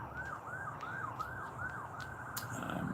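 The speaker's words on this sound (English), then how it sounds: "Here come the sirens." Emergency vehicle sirens wail in a steady rising-and-falling pattern, fairly distant and continuous throughout, with a muffled low background rumble beneath.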